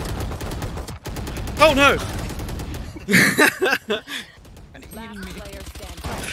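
Gunfire from Valorant comes in rapid bursts of shots that mix with excited voices of players reacting over the shooting.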